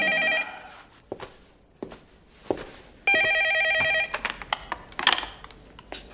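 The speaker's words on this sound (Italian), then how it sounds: "il telefono, il telefono." An old telephone bell rings in two clear bursts, interrupted by footsteps and knocks nearby, with a final clatter as the call is picked up; no one speaks.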